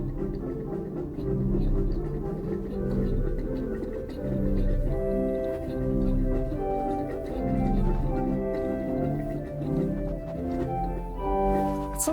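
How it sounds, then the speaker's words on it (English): A pipe organ four-foot flute traverse stop played solo, a bright flutey melody moving over sustained lower notes, full and close with room resonance throughout. "Four-foot flute traverse."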